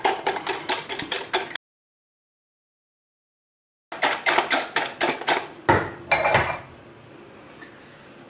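Whole eggs whisked with sugar in a bowl for a Saint-Honoré pastry, a rapid run of rhythmic clinking strokes, a pause, then a second burst of whisking that tapers into lighter scraping.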